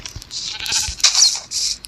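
Several Minecraft sheep bleats, high and nasal, repeat in quick succession over about two seconds, fairly close and clear with no talking.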